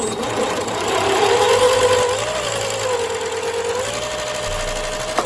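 An electric motor driving the gearbox of a homemade remote-controlled airsoft turret, a continuous high whirring whine that shifts pitch a few times, close and steady with no talking.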